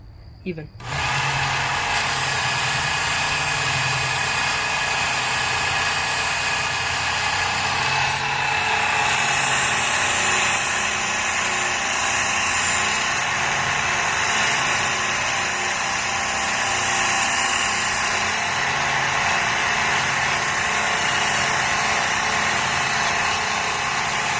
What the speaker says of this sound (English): you go 1 inch per second when you're sharpening the knife, so it would be even